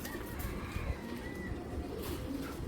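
Low, rolling coos from domestic tournament flying pigeons, steady and close, repeating over a dense, noisy loft background with no talk.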